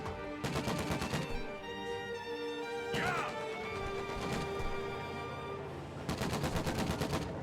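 Rapid bursts of automatic gunfire and crashing impacts in a World War II real-time strategy game battle, loud clusters of shots separated by quieter rumbling stretches.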